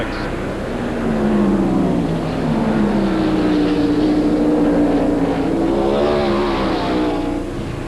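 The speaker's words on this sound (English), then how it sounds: "We're going to watch him now over those rumble strips with the ground cam as they head into turn number 6" NASCAR stock cars race over rumble strips into a turn at the 1991 Budweiser at the Glen, producing a loud, close engine drone with rising and falling pitch as they pass.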